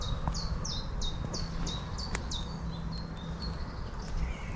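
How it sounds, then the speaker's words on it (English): Small birds sing along a country path near Houghton village, West Sussex, England, with a run of repeated bright descending whistles at first, then softer calls over a gentle outdoor hiss. "Oh, birds singing."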